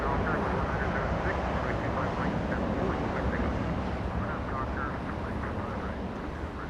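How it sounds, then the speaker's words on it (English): American Airlines airliner taxiing at Los Angeles International Airport after leaving the runway, a loud, continuous jet engine roar with a voice talking over it. "American Airlines, taxiing on hotel after exiting the runway"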